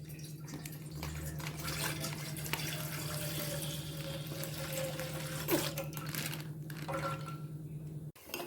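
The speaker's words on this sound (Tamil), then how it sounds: "1/2 லிட்டர் பால் ஊற்றுவேன்" Half a litre of milk pours in a continuous, steady liquid stream into a pan, with a low constant hum underneath and no talk.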